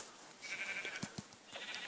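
Blocky sheep in the video game Minecraft bleat in a few short, nasal calls alongside soft game effects, fairly quiet, with no talking over them.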